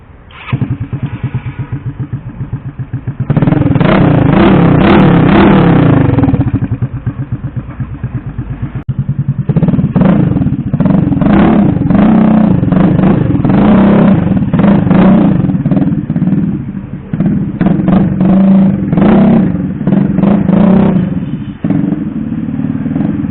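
A EasyRide 150n motorcycle engine starts and runs loud and close, with repeated revs swelling and easing over a rough idle with mechanical clatter, and a short drop in the middle.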